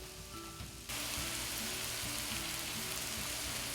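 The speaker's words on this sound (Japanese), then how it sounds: "温めたフライパンに先ほど作ったハンバーグを乗っけて焼いていきます。" Hamburger patties sizzle in a heated frying pan. The hiss starts suddenly, loud and close, and stays as a dense, steady crackle.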